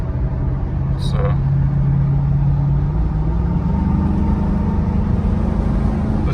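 A Mercedes SL500, revived after more than seven years sitting abandoned, pulls away on the road with a steady engine drone whose pitch slowly climbs as it gathers speed, heard from inside the car under a person talking.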